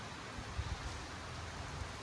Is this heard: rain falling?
yes